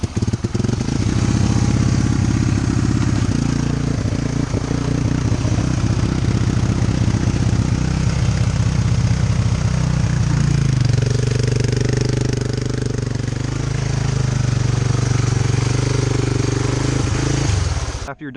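Small-engine amphibious ATV with low compression runs steadily under throttle, a loud continuous motor drone with a rough rattling texture that shifts pitch partway through, close and dominant throughout.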